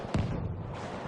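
A Lewis gun fires in a video game match, heard as one sharp, loud report with a short rumbling tail behind it.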